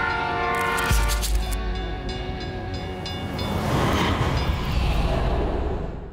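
Freight train in Port Augusta, South Australia, sounding a loud multi-tone horn blast before rumbling steadily past with clattering wheels and a heavy low drone, no voices.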